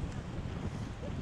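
Strong wind in Alberta buffets the microphone in a continuous low rumble and roar, close and loud.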